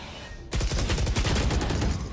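Rapid bursts of gunfire in a competitive video game match, starting suddenly after a quiet moment and then continuing as dense, loud, overlapping shots.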